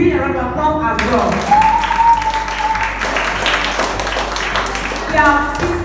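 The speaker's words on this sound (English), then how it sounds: "Give Team B a round of applause as well." A school debate audience claps for the second team, a broad wash of irregular claps rising after a moment and carrying on under a speaker's voice.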